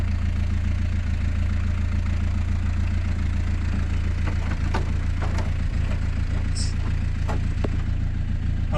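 A ZAZ-968 car engine with no compression idles with a low, steady rumble close by, while people talk over it and faint clicks and knocks sound.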